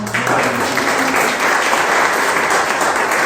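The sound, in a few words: congregation applause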